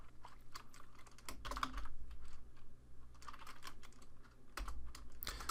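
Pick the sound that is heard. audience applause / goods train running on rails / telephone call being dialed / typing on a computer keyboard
typing on a computer keyboard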